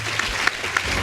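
Applause from an audience at a university medical sciences student awards ceremony, steady dense clapping throughout with a few sharper claps standing out, fairly close and continuous.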